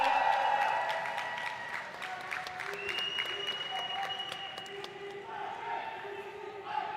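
Crowd applause and cheering for Boom Esports at an esports tournament in India: a steady wash of clapping mixed with voices, holding at a moderate level for several seconds before easing slightly.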